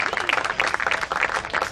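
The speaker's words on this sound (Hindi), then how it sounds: "जोरदार तालियां हो जाती दिनेश तिवारी जी के लिए।" A crowd at a leaders' gathering on stage claps loudly for a speaker, a short burst of dense applause that runs from start to end.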